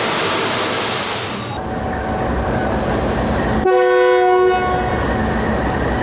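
A train pulls away on a Lahore to Havelian rail journey, with broad rumbling rail noise throughout and a loud sustained horn sounding near the end.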